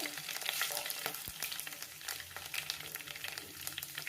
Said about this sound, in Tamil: பிரியாணிக்கு தனி வாசம் கொடுக்கும் ரம்ப இலை சேர்த்தாச்சு பிரியாணி இலை